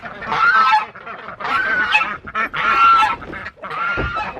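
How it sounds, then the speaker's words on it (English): Loud, honking chicken calls in several overlapping bursts, close by, with short pauses between them; no speech. "Here come the chickens."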